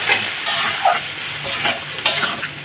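Kundru (ivy gourd) stirred in a frying pan after a splash of water, giving a close, steady sizzle with scraping stir strokes and brief spikes of spatter and a utensil tap.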